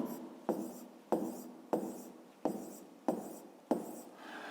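Pen writing by hand on paper while working a school maths volume problem: six evenly spaced stroking bursts, each starting sharply and fading, close and clear with no talk.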